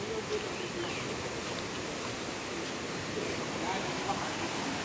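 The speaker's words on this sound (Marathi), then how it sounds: "आणि कालपासून भयंकर पावसामुळे बघा पाणी किती आलं आहे." Floodwater surges under a village bridge by a temple after a night of heavy rain in the Konkan, a continuous broad roar of rushing water, steady and moderately distant.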